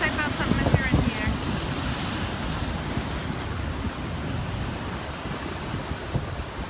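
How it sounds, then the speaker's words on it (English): Ocean surf rolls in on Oahu's North Shore in Hawaii, a steady broad wash of breaking waves mixed with wind rushing across the microphone, continuous and fairly close. "This is the ocean. I've never seen a lake with these waves either."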